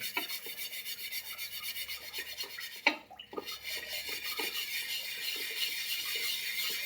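A tawa griddle is scrubbed with Colgate toothpaste, giving rhythmic rasping back-and-forth strokes, close and continuous, with a brief louder scrape partway through.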